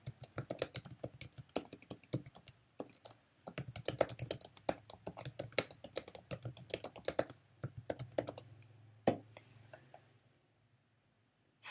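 Fingers patter quickly on a computer keyboard in close, irregular bursts of keystrokes, pausing briefly before more rapid typing, then going quiet near the end.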